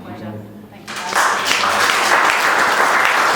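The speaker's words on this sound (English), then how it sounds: "So round of applause for yourselves," Audience applause at a charity event bursts in about a second in and holds steady and dense to the end, following a brief stretch of quieter sound before it.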